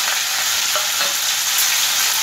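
Gujarati muthiya frying in a pan with mustard seeds, curry leaves and red chili, a loud, steady close sizzle with faint stirring movements, no speech.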